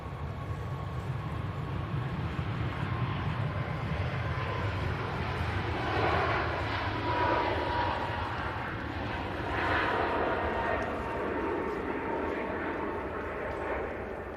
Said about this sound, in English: Iceland Air has been given clearance to depart.